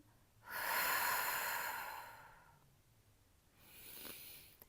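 A deep, audible inhale during a Pilates abdominal exercise, a long close airy breath lasting about two seconds, followed by a shorter second breath after a pause, with no speech.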